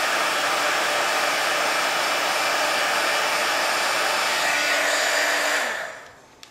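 Hot air tool blowing to melt lipstick in a spoon, making a loud, steady, close whooshing roar that winds down and cuts off near the end.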